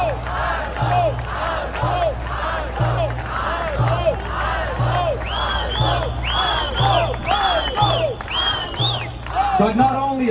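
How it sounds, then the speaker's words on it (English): A large New York crowd chants in unison, the same short phrase repeated in a steady rhythm with shouted, rising voices over a constant crowd roar. "American crowds in New York chanting "We love Azov.""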